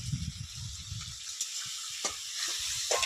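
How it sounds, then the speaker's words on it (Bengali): Cooking oil sizzles steadily in a hot pan as it heats before onion and eggplant go in, a constant bright hiss with a few sharper crackles and pops, close and fairly loud. "তেলটা আমি আগে একটু ভেজে নিচ্ছি, তারপরে এর মধ্যে আমি সবকিছু দিয়ে আবার ভাজা ভাজা করব।"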